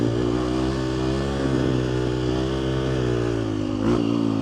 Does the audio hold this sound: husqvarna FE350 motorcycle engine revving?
yes